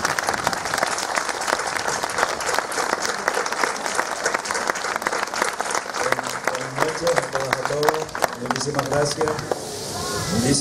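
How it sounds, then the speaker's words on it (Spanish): A crowd applauds loudly and steadily after a performance by the folk group Asociación Cultural y Deportiva Susurros Isleños in Puntallana. The clapping lasts about ten seconds, thins toward the end, and a brief tonal sound enters over it. "Un aplauso fuerte,"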